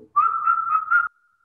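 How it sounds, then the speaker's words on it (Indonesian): A single clear, steady whistle made with the mouth holds one pitch for about a second, with slight pulsing swells, loud and close, alone with no talk. "menggunakan mulut untuk bersiul."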